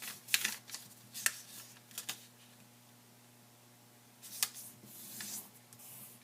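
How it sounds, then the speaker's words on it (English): A sheet of paper being folded in half and creased for an origami jet plane, a few soft crinkles and sharp rustles in short bursts separated by quiet gaps, close and faint. "I'm just going to go ahead and mark where the center is here in the middle by folding this in half"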